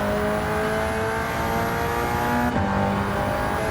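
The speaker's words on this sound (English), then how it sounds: "Get ready for turbocharged Kangoo." A turbocharged front-wheel-drive 1.4-litre Renault Kangoo races in the Gran Turismo game, its engine droning loud and steady at high revs throughout, with a brief shift in pitch partway through.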